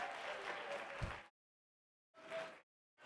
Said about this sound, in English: Give him a round of applause, you guys.